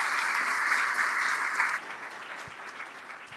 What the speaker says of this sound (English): Maybe we can all give them a quick round of applause.